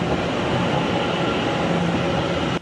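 Puyuma Tze-Chiang express train with a white body pulling into a station platform, a loud, steady roar of wheels and rail noise filling the clip before cutting off sharply at the end.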